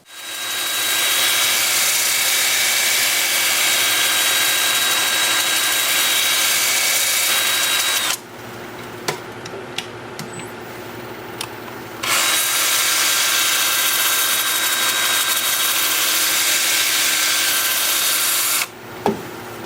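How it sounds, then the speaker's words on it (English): Loud, steady whirring of a wood lathe with a rough, hissing abrasion of sandpaper on California olive wood over it, pausing briefly midway, then running again. "Time for sanding."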